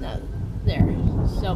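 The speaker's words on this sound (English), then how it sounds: "now you can hear the thunder in the background." Low thunder from a passing storm over Toronto rumbles in the background, under close, casual talk and some wind noise.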